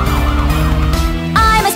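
A police car siren wails loudly and steadily through a children's nursery song about a special police car, its rising and falling tone blending with the music.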